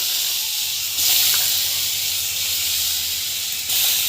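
Vegetables sizzle and hiss steadily in a dry pan with no oil, a close, continuous frying sound with slight swells in intensity.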